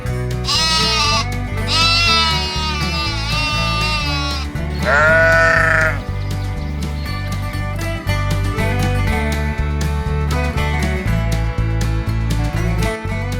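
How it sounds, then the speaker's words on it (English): Sheep bleat loudly in repeated quavering calls over a bouncy children's nursery music backing, several long wavering bleats rising out of the steady beat. "Sheep, sheep."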